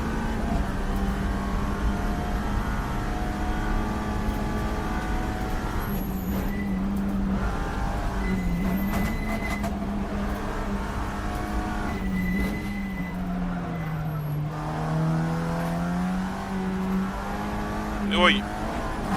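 A Porsche race car, likely a GT3 on the circuit during a three-hour NLS endurance race, drones steadily with engine tones that rise and fall as it shifts, loud and continuous under a voice talking throughout.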